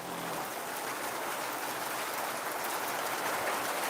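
Heavy hail pounding down outdoors, a dense, steady roar of countless impacts, loud and constant with no pauses.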